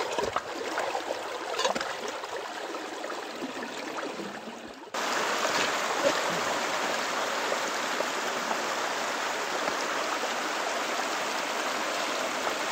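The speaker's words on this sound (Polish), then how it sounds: "A my czekamy, aż ta woda spłynie cała." A steady, rushing flow of water drains continuously through a flooded mine, like a loud stream, growing slightly stronger partway through and holding steady to the end.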